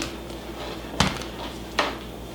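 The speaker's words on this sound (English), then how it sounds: "I'm gonna just grab a knife to scrape this off of here" A metal knife scrapes homemade avocado oil mayonnaise off a container, two short clinking scrapes close up about a second apart over a quiet kitchen background.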